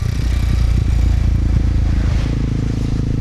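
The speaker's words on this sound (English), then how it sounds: "Just like any other normal OEM exhaust, quietly moving with the wind." A Kawasaki KLX 230 dirt bike with stock exhaust idles and putters along with a low, steady, fairly quiet burble, continuous and unbroken throughout.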